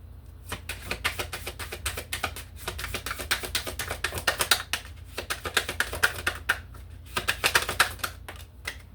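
Oracle cards are shuffled briskly, a continuous riffle of rapid flicking and snapping, close up, with short pauses between bursts.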